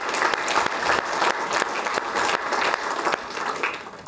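An audience at a Harvard Extension alumni reunion keynote breaks into lively, close applause, a dense crackle of hand claps with slight swells and no pause.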